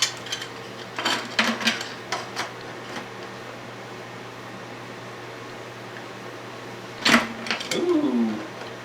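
A metal keg lid is handled in short clanks and scrapes early, then a louder clatter and scrape near the end, with a steady hum underneath.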